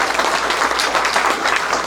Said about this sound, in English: Round of applause for Keith Mashburn